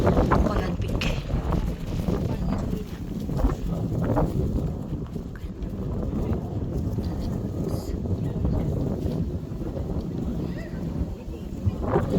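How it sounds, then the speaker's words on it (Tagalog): Strong wind on the summit of Colon Peak buffets the microphone in uneven gusts, a rough rushing roar with occasional faint voices and knocks beneath it. "Mahangin"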